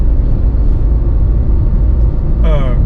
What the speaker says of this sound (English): the amount of sound that this engine generates and the amount of sound that you get in the cabin